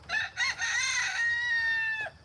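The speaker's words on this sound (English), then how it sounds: "And he's just a gigantic rooster." A gigantic five-year-old farm rooster crows once, close and clear. The call opens with two short rising notes and ends in a long, sustained, slightly wavering cry that breaks off abruptly.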